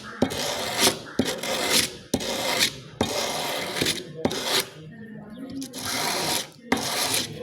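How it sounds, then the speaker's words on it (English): Sandpaper smooths a curved metal workpiece in a workshop with close, rhythmic rasping strokes, about one per second, each with a short pause between. "you can use this sandpaper to smoothing your workpiece"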